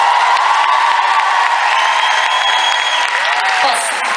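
A concert audience at a show cheers, whoops and shouts in a steady, dense roar that holds at full level throughout, with a few higher voices rising above the crowd.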